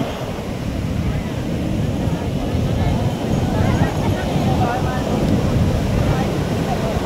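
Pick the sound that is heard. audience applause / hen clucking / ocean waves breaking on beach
ocean waves breaking on beach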